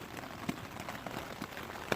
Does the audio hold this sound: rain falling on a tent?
yes